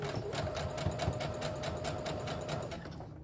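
Sewing machine stitching a pillowcase seam with a half-inch allowance, running at a fast, steady rhythmic whir close to the microphone without pause.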